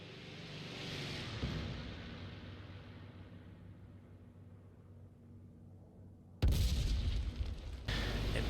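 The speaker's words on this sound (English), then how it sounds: "But I drop a bomb anyway, just because I know that's kind of a spare tank" A bomb dropped from an IL-2 ground-attack aircraft in IL-2 Great Battles bursts with a deep boom that fades into a long rumbling decay, followed by a loud renewed roar of engine or blast noise.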